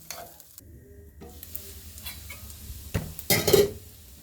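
Sabudana snack being stirred and fried in a pan, with soft sizzling and scraping strokes that grow louder and busier toward the end, close and with no talking.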